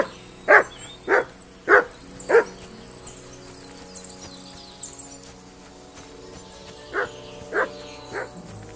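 A dog barks in Kingdom Come Deliverance 2, four sharp, evenly spaced barks up close, then a quiet pause with faint background ambience before three softer barks follow.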